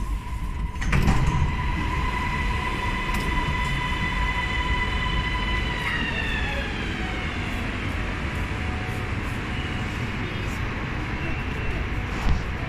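A metro train stands at a platform in Bangkok, with a steady close hum and a faint mechanical tone that rises and falls. A sharp clunk comes near the start.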